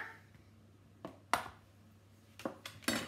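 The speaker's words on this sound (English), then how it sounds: "And whisk that in." Egg and flour being whisked into batter in a bowl, heard as a few sparse, sharp clinks of the whisk against the bowl in an otherwise quiet room.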